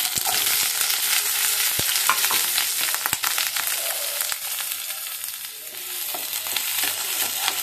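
Onion, garlic, crushed garlic and green chili frying in oil, a loud, continuous sizzle with scattered sharp crackles and stirring clicks throughout.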